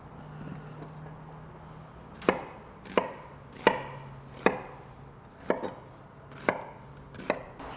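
A knife dices an onion on a cutting board, with seven or eight sharp, evenly spaced chops standing out against a quiet background.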